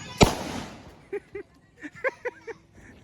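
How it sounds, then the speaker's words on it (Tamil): A Lakshmi firecracker goes off at a village Diwali celebration, one sharp loud bang near the start, followed by short bursts of people's voices. "வெடி வெடிக்குது, வெடி வெடிக்குது."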